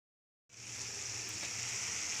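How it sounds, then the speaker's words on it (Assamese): Dhekia (fiddlehead fern) frying in a pan, a steady loud hiss of oil that starts abruptly after a moment of silence and continues unbroken, with no talking. "এয়া ঢেকীয়া ভাজিলোঁ"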